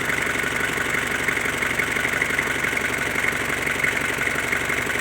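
Ford Marathon pickup with a 2500 diesel engine idles close by, a steady, even rumble and clatter that holds one level throughout with no talk.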